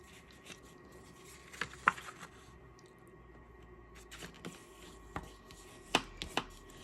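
Sweet sorbet cardstock, cut 8.5 by 5.5 inches and scored at the middle, is folded in a quiet room, giving soft crisp creases and a few light taps and scrapes, faint and close.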